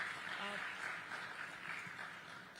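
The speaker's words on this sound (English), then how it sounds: "I think this deserves a round of applause." Audience at the Forbes India Leadership Awards 2024 gives a round of applause, moderate steady clapping with a brief voice and a chuckle mixed in near the start.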